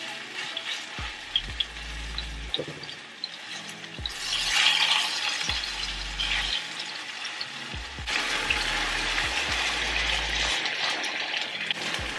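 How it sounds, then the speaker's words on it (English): Steady sizzling of chicken frying in a pan, a constant crackling hiss with occasional small clicks and pops, close up, no talking. "my chicken has been frying on one side for about 7 minutes"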